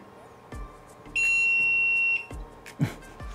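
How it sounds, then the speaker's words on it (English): An AnkerMake M5C 3D printer sounds a loud, steady setup beep lasting about a second, one sustained pure tone over faint background noise, with a couple of soft knocks before and after. "And that was a loud beep, but it looks like we are done."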